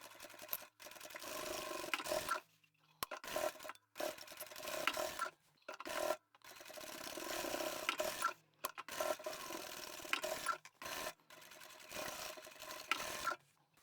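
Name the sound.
sewing machine stitching bag box corners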